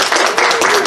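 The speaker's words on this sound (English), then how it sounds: "let's give a quick round of applause for what?" Applause from a convention panel audience at a furry convention, a dense, continuous patter of many hands clapping at close range throughout, without speech.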